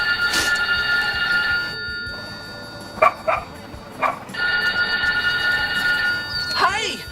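A telephone rings in repeated electronic trills, broken by a gap with a few short bursts, and dog-like yips sound near the end.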